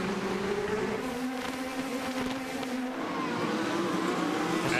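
Onboard engine of Kimball's IndyCar during the Toyota Grand Prix of Long Beach, a steady loud whining drone with shifting harmonic pitch and a slight rise near the end, continuous throughout.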